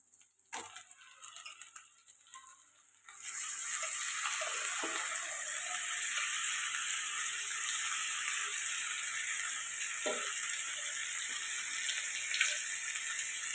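Raw chicken added to ginger garlic paste in a hot pan sets off a sudden loud, steady sizzle that continues evenly, with a few faint utensil taps and no talking.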